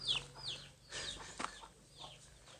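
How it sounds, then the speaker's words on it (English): Tiny chicks in a village in Ban Gioc, northern Vietnam, give faint, scattered high peeps and soft clucks over quiet outdoor ambience. "Look at these chickens, baby chickens."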